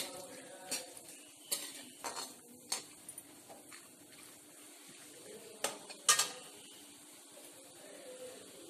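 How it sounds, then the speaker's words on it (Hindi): Cashews being lightly roasted in a pan over a low flame, giving faint scattered clinks and scrapes of stirring over a soft, quiet sizzle, with no talking. "अब मैंने इसमें काजू डाल दिए हैं इनको भी फ्राई कर लेंगे"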